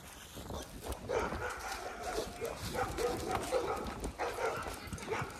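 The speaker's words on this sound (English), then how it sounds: "just got back from the walk with my dog" A dog whimpers and yips softly on a walk outdoors, short bursts of vocalizing repeating over steady background noise at close range.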